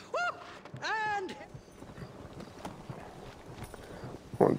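Horse hooves clip-clop steadily in the Red Dead Redemption video game, a rhythmic mid-level patter running under a horse's whinny-like calls and voices talking early on, ending in a louder burst.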